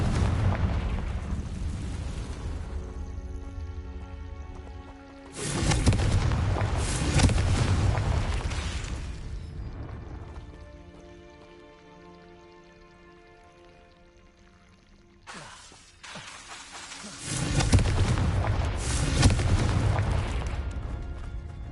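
Confringo fire-spell explosions in Hogwarts Legacy: three heavy, booming blasts with a fiery rushing roar, each lasting a few seconds and separated by quieter rumbling lulls.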